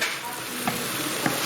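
Onions frying in oil with a cinnamon stick dropped in, a steady close sizzle carrying two soft stirring knocks, for a beef madras.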